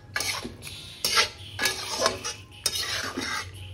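Three kinds of pasta being stirred and fried in a pan, with repeated sharp metal utensil scrapes and clinks against the pan in an uneven rhythm over a light sizzle, no voices.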